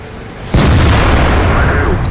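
A tank cannon fires in World of Tanks, one sudden, very loud close boom that rolls on as a rumbling tail filling the rest of the moment.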